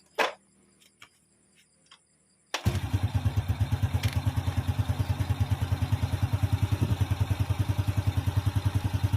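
A Supra motorcycle engine, freshly reassembled after cylinder block work, starts up after a few faint clicks and settles into a steady, rapid ticking idle, close and continuous.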